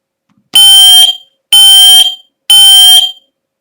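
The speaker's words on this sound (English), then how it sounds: "smoke alarm." An interlinked smoke detector's test alarm sounds in three loud, shrill bursts about a second apart, each under a second long, with silence between and no voices.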